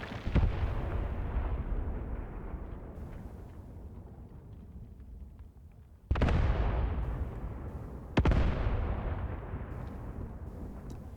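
Mortars fire in the video game Graviteam Tactics: three heavy booming blasts, one near the start and two close together later, each followed by a long rumbling decay.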